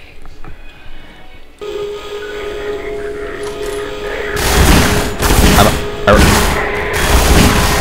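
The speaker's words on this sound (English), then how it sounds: "Quit shooting me when I'm aiming!" Enemy gunfire in the Half-Life 2 video game, loud rapid bursts of shots arriving in the second half after quieter mechanical ambience, with some game noise around them.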